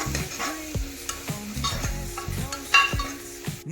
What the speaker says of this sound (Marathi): हे सगळं घालून घेऊ आणि चांगल्या प्रकारे मिक्स करून घेऊ।